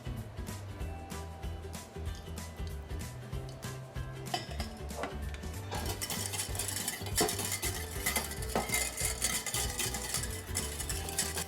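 Mustard and a little salmon marinade are whisked in a bowl into a vinaigrette, with rapid rhythmic clinking of the whisk against the bowl that grows busier and louder partway through.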